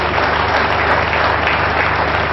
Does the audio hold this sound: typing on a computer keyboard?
no